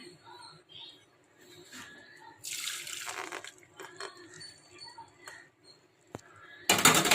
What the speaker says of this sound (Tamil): இதை அப்படியே நம்ம வடிகட்டி வச்சு இதை ஃபில்டர் பண்ணி எடுத்துப்போம்